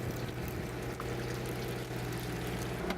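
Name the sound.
hose pouring seawater into a lobster barrel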